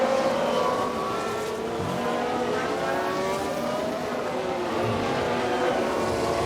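Several Formula 1 race car engines in the video game F1 Manager 2022 whine steadily at high pitch at Singapore, shifting up and down as they pass, a constant mechanical roar with no talking.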